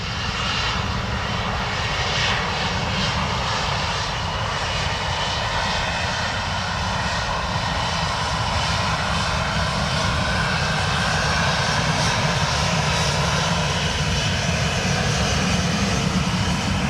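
A Ryanair airliner taking off at Dublin Airport on a wet, gusty day, its engines roaring loud and steady for the whole stretch with a broad, sustained rumble and no voices.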